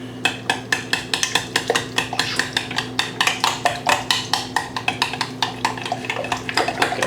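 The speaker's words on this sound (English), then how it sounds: "And you can go ahead and stir that." Eggs are stirred into an oat cup mixture in a bowl, with a fast regular series of spoon strokes scraping and clinking against the bowl, close and fairly loud, with no voices.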